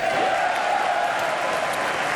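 Members of Congress and guests applauding and cheering in the House chamber as the President is presented, a dense, continuous roar of clapping from a large crowd at steady volume.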